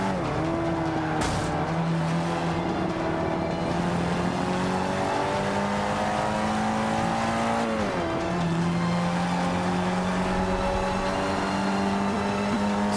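A Mitsubishi Eclipse with Fast and Furious livery races in Forza Motorsport 5, its engine droning loud and continuous as the revs rise and fall through gear shifts, with tire squeal mixed in and no talk.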